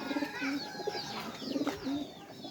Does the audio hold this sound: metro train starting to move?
no